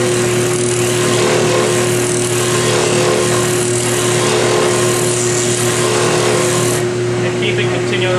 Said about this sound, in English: Bring your material down to the tabletop, press into the sander.